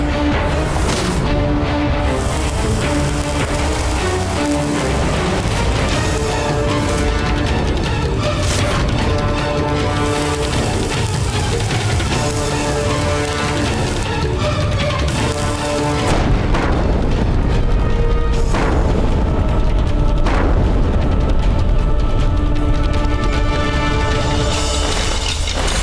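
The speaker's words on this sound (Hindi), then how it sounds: "चलाओ तोप।" A cannon fires in a historical Indian TV serial battle scene, loud booming blasts layered over a dense, continuous dramatic score with crashes throughout.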